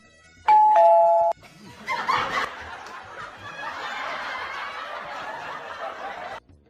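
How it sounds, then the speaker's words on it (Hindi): A doorbell gives one sustained, loud electronic ring lasting under a second, followed by rustling, movement and soft laughter-like sounds in a home. "बार बार घंटी बजा रहा है"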